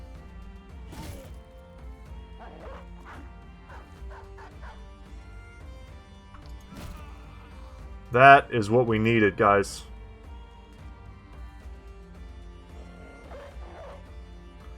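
War dogs bark in the video game Battle Brothers as a close, loud burst of several barks and yips around the middle, after quieter game sounds, with someone talking throughout.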